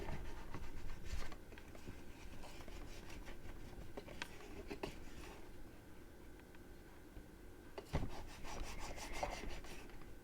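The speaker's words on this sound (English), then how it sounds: "Burnish that quite well." Slow rubbing and scraping strokes on leather or paper while burnishing a handmade writing pad folio, steady close-up friction with a few sharper scuffs, no voices.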